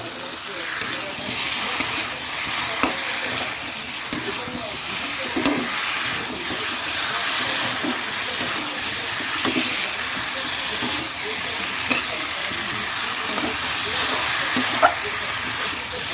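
Chicken kosha with potatoes being stir-fried in a pan, a continuous sizzle and hiss broken by regular scraping and clinking strokes of a spatula, close by.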